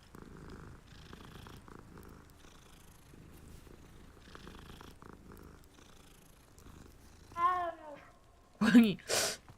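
A cat in the Hogwarts Legacy video game purrs in a low, steady, rumbling drone for several seconds, then lets out a couple of louder, closer meows near the end.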